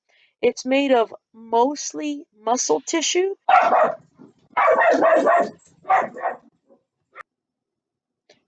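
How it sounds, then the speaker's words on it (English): A pet dog barks repeatedly in a home during an online lesson, sharp yips and barks in quick clusters mixed with a speaking voice, fairly close and loud. "That was my dog again."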